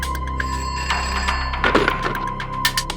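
A telephone bell rings steadily at a police station, bright repeated trills continuing through the whole moment with some faint background clatter and no voices.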